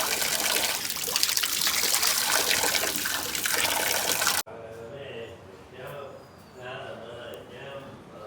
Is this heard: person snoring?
no